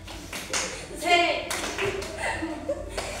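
A small group in a classroom performs a rhythmic clapping cheer, bursts of claps in a patterned beat, with voices and light laughter mixed in.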